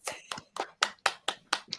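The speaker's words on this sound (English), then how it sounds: "can we get an applause for both Coco and Haran's face?" About eight separate, evenly spaced hand claps, crisp and fairly faint, in a slow steady rhythm with no talking.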